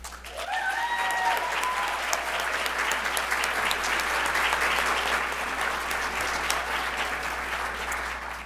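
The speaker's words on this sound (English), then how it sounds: "Please applaud." Guests at a nonprofit gala applaud sponsors in a large room, steady broadband clapping sustained for over eight seconds at even loudness, with a brief electronic tone near the start and a faint low hum beneath.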